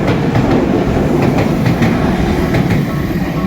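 A blue and yellow train rumbles past close by in Tokyo near Kawasaki, loud and continuous, with rhythmic clicking from the wheels over the rails.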